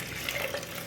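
Water poured from a tap or jug into buttermilk being prepared in a kitchen vessel, a steady close splashing gush lasting under a second with no voices.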